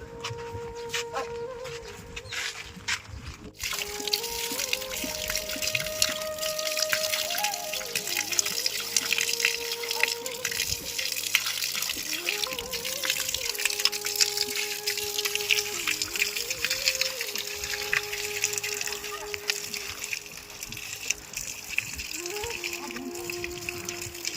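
Water runs from a tap in a steady trickle and splash, close by, while a rooster crows repeatedly in the background.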